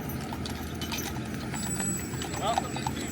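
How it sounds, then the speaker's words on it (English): Horses in training walk along a street in the Wild West town of Tombstone, Arizona, their hooves clip-clopping faintly under steady background street noise. "these are horses in training"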